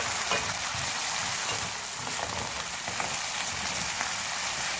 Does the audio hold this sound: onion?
yes